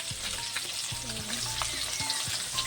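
Fish fried in a wok for a Sunday family meal, a steady close hiss of hot oil with occasional soft scrapes of a spatula and faint clinks, no voices.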